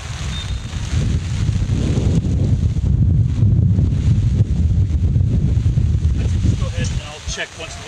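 Strong wind buffets a microphone at an outdoor soccer field before an evening match, a heavy, continuous low rumble and roar that barely lets up and eases only near the end.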